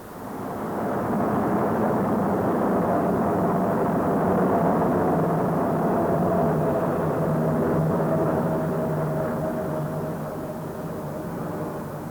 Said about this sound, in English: Allied heavy bombers were thus able to keep up a continuous bombardment of the German forces in the Ardennes